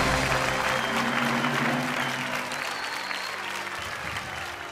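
A studio audience on the Bhojpuri quiz show Ke Bani Crorepati breaks into sustained, dense applause that holds steady and eases slightly toward the end.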